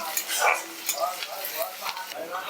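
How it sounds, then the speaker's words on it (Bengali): Crushed garlic and lightly fried onion sizzle in hot oil, a continuous crackling hiss with a few stirring scrapes and soft utensil taps. "রসুনটা দেওয়ার পর আমি আরও একটু ভাজা করে নিচ্ছি"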